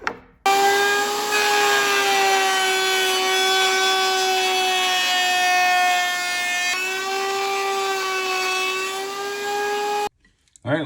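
A router bit cuts a shallow 1/8-inch groove along cherry wood pieces, making a loud, steady high-pitched whine that runs for about ten seconds with one brief dip midway before it stops abruptly.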